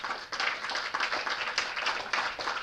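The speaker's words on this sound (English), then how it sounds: "A bigger round of applause, please." A lecture hall audience breaks into sustained applause, dense overlapping claps rolling on steadily with small swells and no voices on top.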